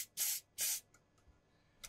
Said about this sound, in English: squirt the switches full of switch cleaner